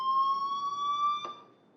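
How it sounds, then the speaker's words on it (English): A fire alarm sounds in the Life is Strange video game as one steady, fairly faint electronic tone that holds and then cuts off abruptly, leaving near silence. "do you hear that fire alarm? That means you should be outside."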